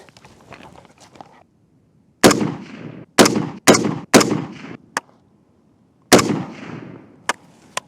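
Rifle fire during accuracy testing at a range with an OrcaClip magazine: after a quiet stretch, a run of loud, sharp single shots at uneven intervals, each followed by a brief echoing decay, with faint shuffling sounds at the start.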